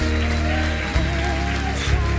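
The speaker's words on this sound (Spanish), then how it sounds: "Le damos un aplauso al Señor Jesucristo" A church congregation claps in applause for Jesus, a dense rain-like patter of many hands, loud and steady, mixed with sustained musical tones from instruments.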